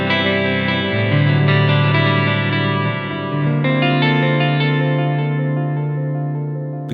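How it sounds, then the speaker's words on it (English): An electric guitar through an Echoplex tape echo plays muted phrases, sustained chords and notes with repeating echo tails that fade out at the end. "The key to a good echoplex sound, or really tape echo sound"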